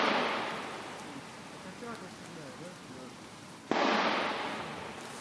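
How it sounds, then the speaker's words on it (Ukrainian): Two sharp, distant reports from an old PTRD anti-tank rifle firing on positions near a road junction ring out a few seconds apart, each followed by a long rumbling echo that decays across open ground. "Це наші позиції прострілюють з протитанкової рушниці."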